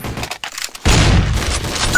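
Counter-Strike: Source gunfire: a few scattered shots give way to a sudden, loud, sustained burst of firing that keeps booming until the end, with no talk.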